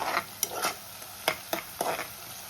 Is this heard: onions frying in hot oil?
yes